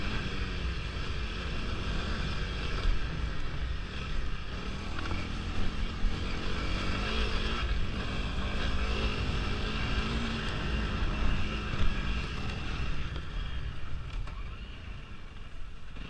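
A Honda CRF300L trail motorcycle fitted with a 45-tooth rear sprocket rides a wooded trail, its engine droning steadily and close for the whole stretch with wind rush, easing slightly near the end.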